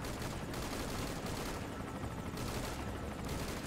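Gunfire in Metal Gear Solid V: Ground Zeroes, a continuous dense fusillade of rapid shots filling the short stretch at a fairly low, distant-sounding level with no speech.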